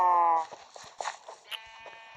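A sheep in a video game gives a single short bleat at the start, close and clear, followed by quiet scattered clicks and faint game noises.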